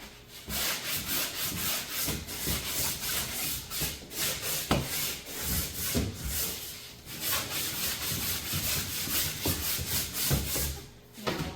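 Rhythmic back-and-forth scraping as dried drywall compound is sanded over a badly done patch, each stroke a dry rasping rub, repeated steadily and close by with no talking.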